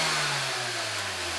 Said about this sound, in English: here I just snapped the throttle